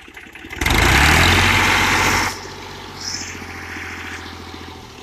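An Al-Ghazi 65 hp tractor engine runs close by, roaring loudly for about two seconds and then dropping back to a steady, lower idle rumble, with no talking.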